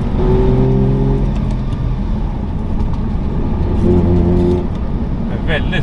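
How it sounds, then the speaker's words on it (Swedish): A Saab two-stroke engine revving, a loud, steady buzzing drone with a rising tone near the start and again later, close by and continuous throughout. "Visst att det låter när den tvåtakten varvar högre"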